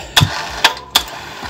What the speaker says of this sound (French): Ce qui me permet de remonter, de descendre le treuil